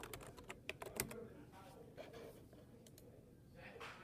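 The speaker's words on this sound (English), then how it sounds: "you have to type in the password in the PSK bar" A Wi-Fi password goes in on a computer keyboard in quick, faint, close keystroke clicks, denser at first and then sparse, over a low background hiss.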